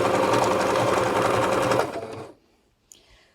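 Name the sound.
sewing machine blind hem stitching thick curtain fabric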